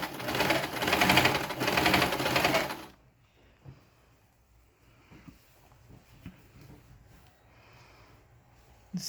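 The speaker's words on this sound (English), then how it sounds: "I will use a zigzag stitch to do that" A sewing machine runs a zigzag stitch on fabric for a bonnet cap with an elastic headband, a loud dense whir for about three seconds, then stops, leaving faint handling clicks and rustles.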